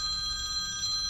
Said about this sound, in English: That's my phone. I never turn my phone off.